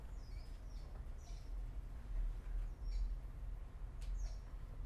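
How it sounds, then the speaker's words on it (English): Parakeets calling at dusk in San Salvador, scattered high chirps coming faint and distant over a steady low rumble of background noise. "The parakeets means if you're from San Salvador that it's 6 p.m. and that the parrots are going to bed."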